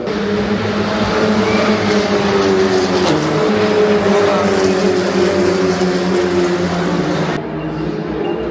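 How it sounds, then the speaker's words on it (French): A steady, loud engine roar from a race car at the GP Explorer event, holding close and constant for several seconds, then shifting slightly as it moves off near the end. "C'est une voiture"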